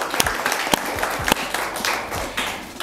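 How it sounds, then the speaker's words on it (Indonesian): Audience of high school students applauding at a school talk show on National Waste Care Day, a dense steady patter of many hands with a few sharper claps standing out, close and moderately loud throughout. "Tepuk tangannya dulu dong."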